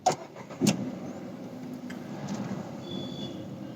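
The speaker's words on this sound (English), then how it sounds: "So now let's just start the engine." A Nissan Magnite non-turbo engine cranks with a push-button start and catches after a short click, then settles into a smooth, steady idle nearby.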